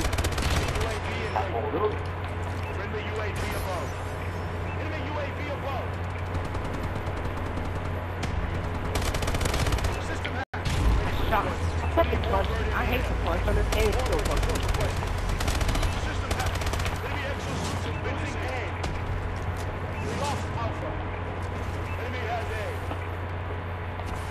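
Shotgun blasts and other gunfire in a first-person shooter video game, with steady dense firing over a low rumble through most of the stretch and one brief dropout midway, while players talk over it.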